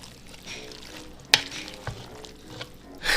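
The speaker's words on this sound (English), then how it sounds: "And then you just mix everything together." Mexican chicken salad ingredients being mixed together in a bowl, soft stirring and scraping with a few sharp clinks of the utensil, quiet and close, no talk.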